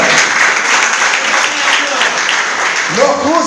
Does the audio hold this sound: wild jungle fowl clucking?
no